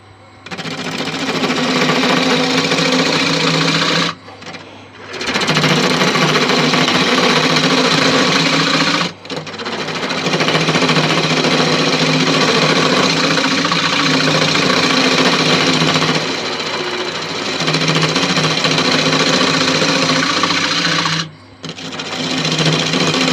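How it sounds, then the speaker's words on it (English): A carbide tool cuts a Malaysian acacia vase spinning on a wood lathe, a loud, steady buzzing grind broken by a few short pauses where the tool lifts off the wood. "now I'm going to use a carbide to clean up that"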